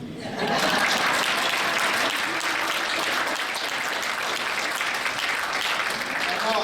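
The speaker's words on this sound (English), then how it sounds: "let's all give a round of applause for me first" Audience applause at a venue in Sault Ste Marie during an Elvis tribute show, starting abruptly and then holding as a loud, even roar of many hands clapping. Murmured crowd voices are mixed in.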